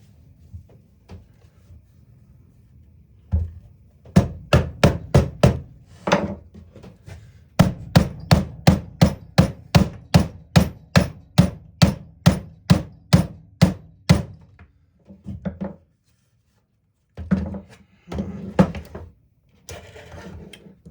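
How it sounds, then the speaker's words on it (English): A hammer strikes a Sawzall reciprocating saw, fixed with a door hinge, in a tool repair. Loud, sharp blows come in quick rhythmic runs, with brief pauses between the runs and a few scattered final hits. "I just probably made half the people watching this video cringe hammering on a Sawzall."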